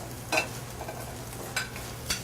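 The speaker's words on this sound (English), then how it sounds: "In a hot pan, we get our shrimp going." Shrimp sizzle in a hot skillet with grapeseed oil, a steady close frying hiss broken by three sharp stirring scrapes and crackles, with no voices.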